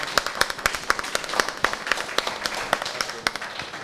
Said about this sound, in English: Thank you very much, Dr. Cuello, and a round of applause for him,